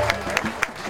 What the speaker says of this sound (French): Nous applaudissons fort.